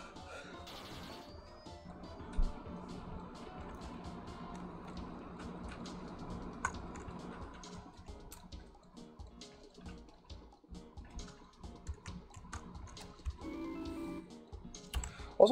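Rapid light clicking of a computer keyboard and mouse goes on throughout while playing the Abomi Nation demo, with faint game sounds and a louder knock near the end.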